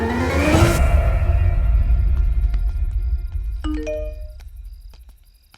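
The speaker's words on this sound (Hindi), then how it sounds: "घंटी, मिक्स, कॉलिंग बेल।" A whooshing rush fades into a ringing chime tone that sustains, followed by a few clear bell-like notes, then quiet decay.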